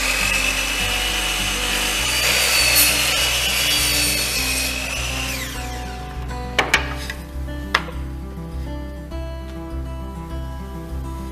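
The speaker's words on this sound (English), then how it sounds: "We're going to cut it on this chop saw" A chop saw rips through a piece of wood for a display case in a workshop, loud and sustained for about five seconds, then the blade winds down, followed by a few sharp knocks as the cut piece is handled.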